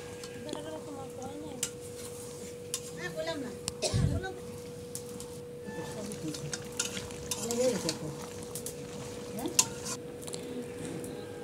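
Duck meat stirred and cooked in a pan, with a faint steady sizzle and scraping stir strokes, and a voice talking over it.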